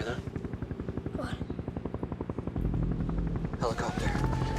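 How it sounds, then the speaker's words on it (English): Rapid rhythmic chopping of a helicopter's rotor thumps steadily, with a louder rumble joining midway and people talking over it. "Helicopter."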